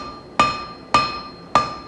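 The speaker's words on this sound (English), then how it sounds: "Forging this down to like a 1/4 by 1 inch dimension gives me good starting material for guards" Hammer forging hot non-ferrous metal into flat stock, three sharp ringing metallic strikes spaced about half a second apart, close and loud, each decaying quickly.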